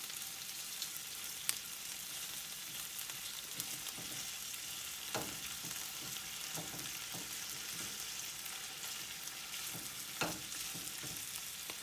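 Mushrooms and meat fry in a pan for an Italian omelette, giving a steady, even sizzle throughout, broken by occasional sharp clicks and scrapes of a utensil stirring.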